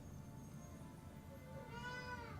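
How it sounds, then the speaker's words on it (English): A cat meows faintly in the background over a steady low hum, with a short rising call near the end. "Oh my gosh, my cat."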